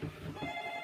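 A telephone rings faintly in the background, a brief, continuous electronic trill heard under a low room hum.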